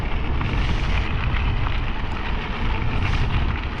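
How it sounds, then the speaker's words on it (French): Wind from the southeast blows strongly across the microphone on an electric mountain-bike ride along the Plazaola greenway between Leitza and Lekunberri. The rumble is constant and broadband, with no speech. "il y a du vent. Vent de sud-est."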